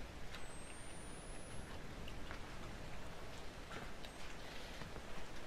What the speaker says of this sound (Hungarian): Véres eső.